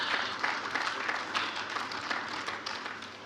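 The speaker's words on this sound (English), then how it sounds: "can we give him a round of applause as he comes up?" Audience applause at a fellows' induction ceremony, a fairly quiet, continuous spread of clapping from a hall crowd, steady throughout without pauses.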